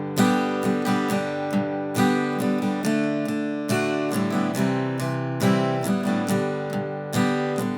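An acoustic guitar strummed in a steady rhythm, moving through a song's verse chord progression with bright, ringing chords and no singing.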